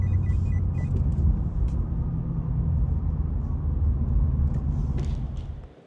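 Ford 6.7 diesel truck engine revving under boost, a heavy continuous low rumble held loud and steady, with faint higher whistling at the start, fading out at the end.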